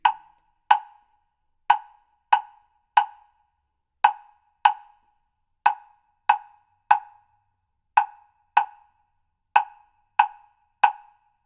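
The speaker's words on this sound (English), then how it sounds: "That is the clave of the Rumba Colombia." Crisp wooden clave strikes tap out a Santiago de Cuba rumba columbia pattern, alternating groups of two and three hits, repeated three times, dry and close with silence between.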